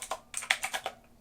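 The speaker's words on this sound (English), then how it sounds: "the keyboard is now connected. This is what it is like to type" A keyboard paired with a Bigme B1051C e-ink tablet clicks under typing, about eight close, light keystrokes in a brisk uneven burst that trails off, heard on their own without talk.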